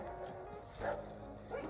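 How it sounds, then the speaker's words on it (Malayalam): A dog barks near a cluster of small workers' houses by Chembra rock in Wayanad, giving two faint, distant barks less than a second apart in a quiet outdoor setting. "അതാണ് പട്ടി കുരക്കുന്നത് കേൾക്കുന്നത്"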